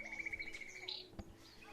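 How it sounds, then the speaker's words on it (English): A mobile phone's bird-sound ringtone gives a few faint chirps and tweets in a quiet indoor setting. "If you hear birds, that's Marty's phone."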